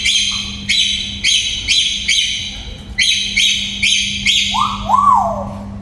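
Pet birds in a garden center's pet area chirp in loud, repeated bright bursts, a quick series of calls with short pauses and a lower warbling note near the end, over a faint steady hum.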